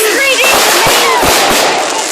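Fireworks at the Potton firework display crackle and pop in a dense, continuous flurry close by, with people talking loudly over the bursts.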